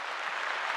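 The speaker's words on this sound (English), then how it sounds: "Let's give them a round of applause." An audience claps in a dense, continuous wash of applause, fairly faint and steady for a short moment with no voices on top.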